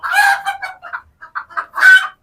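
Roosters in the rooster section of a poultry farm, raised together, give loud, close clucks and crowing calls in quick bursts separated by short silences.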